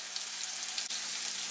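Sausages frying in a pan, a soft steady sizzle and crackle heard close up and alone, with no talking.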